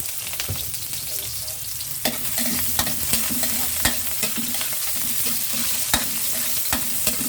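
Onion and garlic sizzle and fry in a pan for pansit, a steady crackling hiss with repeated scraping knocks of a utensil stirring, close and loud with no talk.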